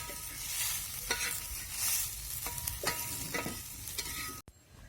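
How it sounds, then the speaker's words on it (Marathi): Spiced black masala with turmeric, for a matki curry, sizzles steadily in a pan while being stirred, with repeated soft scraping strokes; the sound cuts off abruptly near the end. "आपल्याला मसाल्यात हळद टाकायची चांगलं परतून घ्यायचं"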